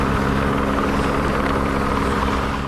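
A helicopter lifting a Volkswagen Beetle prank car off a mountain near Squamish makes a loud, steady rotor and engine roar that holds without a break and with no voices.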